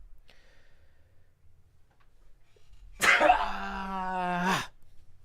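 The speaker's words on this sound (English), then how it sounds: "It's a dad sneeze." A single sneeze, close and loud, bursting out of near silence and trailing into a voiced tail lasting over a second.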